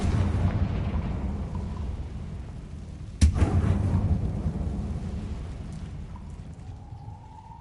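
A Confringo fire spell explodes in Hogwarts Legacy: one sudden sharp blast midway, trailing into a rolling rumble over a low, steady ambient drone, with no talking.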